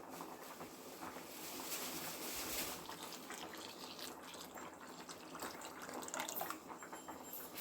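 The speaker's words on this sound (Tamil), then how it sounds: "இது கூட நம்ம தேங்காய் பாலை சேர்த்துக்கலாம்." A steady, soft pour of coconut milk into a pot of boiling pasta payasam sounds like a gentle liquid stream with faint bubbling, fairly quiet and continuous throughout, with no talking.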